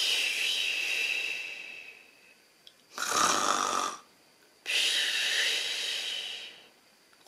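Loud, drawn-out snores in a slow rhythm, three long breathy rasps separated by brief quiet pauses, close and alone.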